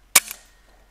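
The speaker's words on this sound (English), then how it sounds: "I actually get two shots on the rats there." A single air rifle shot fired at rats on a dairy farm, a sharp close crack with a fast-fading tail, followed by quiet.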